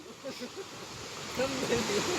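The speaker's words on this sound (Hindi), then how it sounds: "और ये पानी ऐसे नीचे जाता है पूरा।" Mountain water rushes steadily downhill at Haldu Kulah with a constant broadband wash, while someone talks over it.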